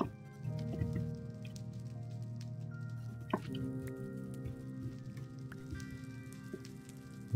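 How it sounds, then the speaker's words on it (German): Rain beginning to fall in the Minecraft video game, a soft continuous patter of drops under a low droning game ambience with a few faint clicks. "Draußen fängt es gerade an zu regnen."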